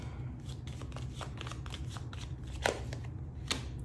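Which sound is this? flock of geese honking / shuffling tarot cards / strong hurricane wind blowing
shuffling tarot cards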